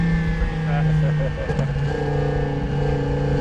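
A twin-turbo Lamborghini STO with a stage 1 turbo kit making about 821 horsepower pulls hard from a rolling start, its engine a loud, steady, rising drone heard from inside the car, with a voice briefly over it.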